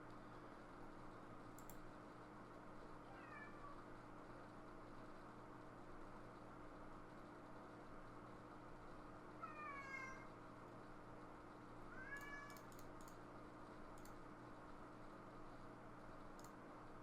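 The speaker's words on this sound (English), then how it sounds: "My cat's upset about something." A cat meows in an upset way, with several drawn-out, rising and falling meows spread across the clip. The calls sound fairly faint and set back from the listener, over a steady hum of room noise. A few brief clicks break in now and then.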